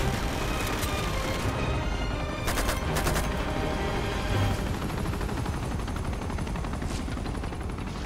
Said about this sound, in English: let's just shoot the shit out of him